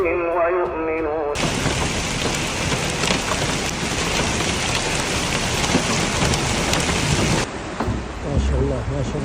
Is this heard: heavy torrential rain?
yes